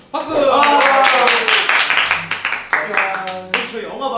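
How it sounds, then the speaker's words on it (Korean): A small group of people in a kitchen clap after finishing chocolate cakes, quick close handclaps, first dense then thinning into scattered claps, with voices mixed in. "박수"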